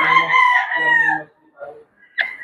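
A Boston Roundhead pullet crows loud and close, one long strained call followed by a couple of short clucks and a sharp final squawk.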